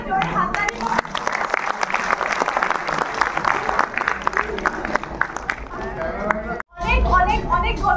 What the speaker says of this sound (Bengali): সবার জন্য জোরে হাততালি